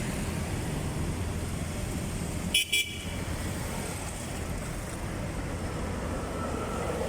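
Traffic in the Lagusnilad underpass in Manila, where cars slow over a potholed, broken road, makes a steady, dense rumble throughout, with a brief horn-like toot midway.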